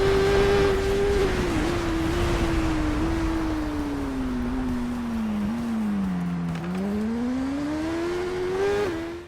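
Kawasaki racing motorcycle engine in the TT Isle of Man Ride on the Edge 2 game, a steady loud drone whose pitch sags and climbs with throttle and gear changes, close and continuous with no voices.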